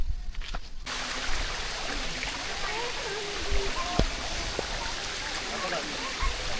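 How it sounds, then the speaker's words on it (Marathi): Heavy rain pours steadily at Korigad fort with water rushing and flowing nearby, a dense broadband hiss that continues throughout, a few brief tones and knocks rising above it. "पाऊस तर खूप चालू आहे."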